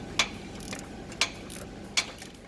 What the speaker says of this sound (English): it's a snap-on 3/8 drive flexible head ratchet